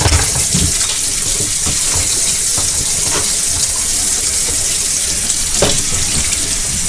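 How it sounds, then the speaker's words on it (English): Water runs steadily and loudly from a tap into a kitchen sink while dishes are washed, a constant rushing hiss with occasional faint clinks of dishes, and no talking. "Wash a few dishes up in there."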